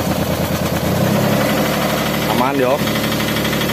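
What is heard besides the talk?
Daihatsu Xenia 1.0 car engine idling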